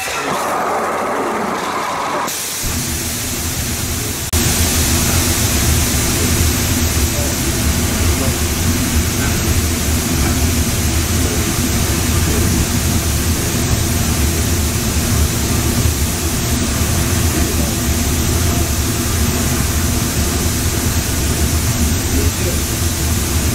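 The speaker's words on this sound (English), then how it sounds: "This is the sound of a rocket engine." A rocket engine firing makes a loud, steady broadband roar. It starts after a brief quieter stretch and holds at full strength without a break.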